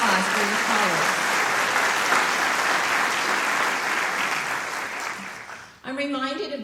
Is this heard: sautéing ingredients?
no